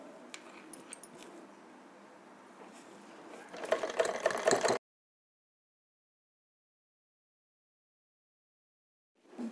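A sewing machine stitches lace onto a blouse back neck with a quiet rapid mechanical whir that grows louder and busier, then stops dead into silence before a short burst returns at the end.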